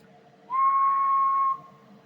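A steady single-pitch whistle into the microphone of a Cobra 29 Chrome CB radio during power testing, lasting about a second, clear and fairly loud over a faint background hum.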